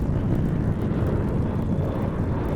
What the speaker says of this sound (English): you need air power. Big helicopters, little helicopters